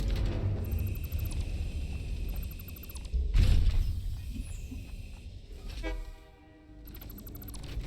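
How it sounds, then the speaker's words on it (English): Busy, loud train station machinery in the video game Satisfactory, with a sustained mechanical rumble, a sharp burst near the middle and repeating tonal horn-like toots near the end, playing alone without talk. "That one train station is so freaking loud."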